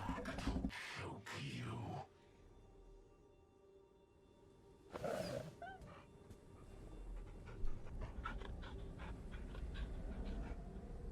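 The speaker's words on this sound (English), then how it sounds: "why did that just vomit out a dog?" A dog in the video game Fade to Silence pants rhythmically, close and moderately loud, with a few clipped bursts of game sound effects around it and no speech.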